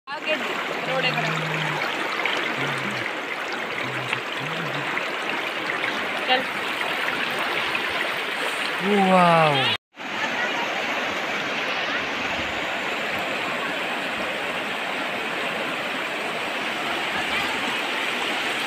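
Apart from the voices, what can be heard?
rushing stream water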